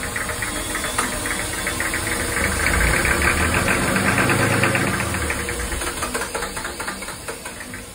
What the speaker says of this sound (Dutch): Na een paar pogingen en beter ontluchten liep de motor weer als een zonnetje.